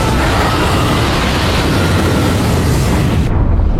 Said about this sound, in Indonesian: sehingga membuatnya meledak.